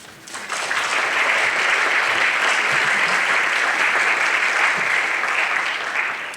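An audience at a Duke event applauds warmly to welcome Eli to the stage, a steady, full round of clapping that swells quickly and holds for several seconds before easing off.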